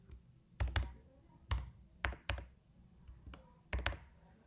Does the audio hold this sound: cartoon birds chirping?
no